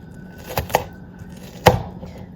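A knife chops an onion for quesadillas, giving three crisp, close cuts on a board: two quick strikes in a row, a short pause, then one firmer chop, with no talking.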